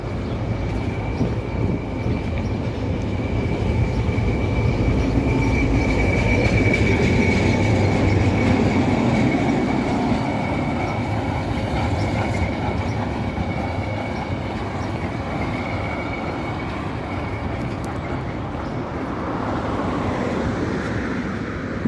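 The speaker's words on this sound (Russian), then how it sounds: "Трамвайчик едет." A street tram rolls past close by on a summer city street near Gorkovskaya metro, a loud continuous rumble of wheels on rails with a faint squealing tone carried throughout.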